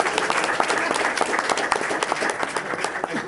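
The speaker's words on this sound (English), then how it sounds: "did someone want to clap for that?" Audience applause at a Massachusetts seaport economic council meeting, a steady, dense patter of many hands clapping close by with no pause across the few seconds.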